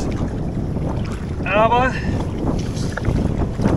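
A canoe is paddled against the wind: continuous wind buffeting and water wash, with a short spoken word in German partway through.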